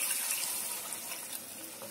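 About a cup of water is poured into a pan of Katla fish curry onto spiced masala fried until the oil separates, making a steady, close splashing pour that runs continuously without talk.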